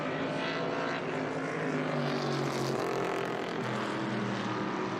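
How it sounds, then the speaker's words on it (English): A continuous engine roar fills the air, swelling and shifting in pitch as powerful V8 Trans Am race cars, including a 1970 Boss 302, pass at WeatherTech Raceway Laguna Seca, loud and steady throughout. "it was just a great sound to hear those V8 engines coming through"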